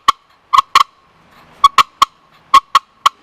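Sharp, abrupt cutting notes from a Lil' Sly Hybrid hand turkey call, played loud and close in irregular bursts of one to three quick clucks with short silences between.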